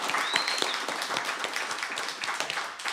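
Audience clapping at a live radio music show, a dense, lively round of applause from a small indoor crowd, close and steady for a few seconds.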